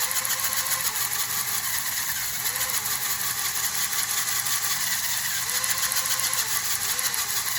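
A custom-built LEGO RC vehicle's motor and gears run continuously, a loud steady whirring, ratcheting grind with a few subtle dips and rises in pitch as the speed changes, with no talk over it.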